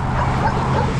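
Dog barking outdoors near a road during a motorcycle ride, a short yipping bark heard once over steady background rumble.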